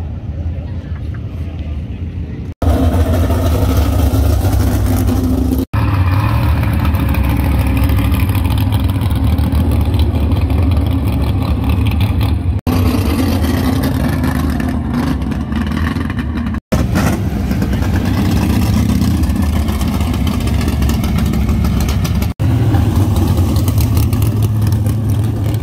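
A 1956 Chevy gasser drag car at a drag strip, its engine loud and close, rumbling and revving in bursts, with a commentator speaking over it.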